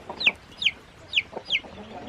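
Chickens and a rooster clucking in a backyard coop, four short sharp calls repeating at an even pace, fairly close, with soft background noise between them.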